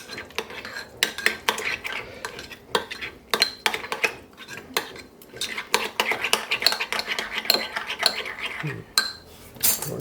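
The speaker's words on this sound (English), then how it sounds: "Give it a good stir" Sweet chili sauce being stirred in a dish, with repeated clinking and scraping of a utensil against the bowl in an uneven rhythm, close and fairly loud.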